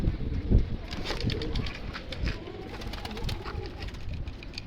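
Homing pigeons coo softly and repeatedly up close, with occasional rustles and light background noise.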